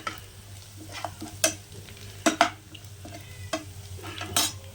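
Onions frying in a pan with a low continuous sizzle, broken by several sharp scraping clicks of a spatula stirring against the metal, close by.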